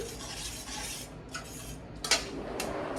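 Spoon stirring basil into a zucchini lasagna mixture in a pot, soft scraping and a few clinks of metal on cookware, close and fairly quiet.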